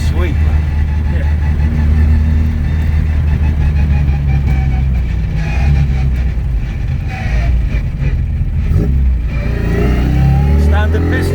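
A souped-up classic MINI with a sweet-sounding gearbox revs hard and accelerates, its loud, steady engine drone filling the cabin from the inside, with occupants talking over it.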